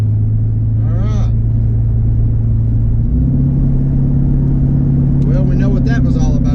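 A car engine, a Corvette-style build with nitrous and a cylinder 5 misfire, idles with a steady low rumble that shifts pitch partway through, with someone talking over it.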